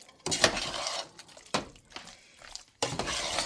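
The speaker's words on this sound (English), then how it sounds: "you don't want to over stir just till you get that cheese over the noodles" Macaroni and cheese stirred in a pot, with three bursts of scraping and clinking of a utensil against metal separated by quieter pauses, close and with no one talking.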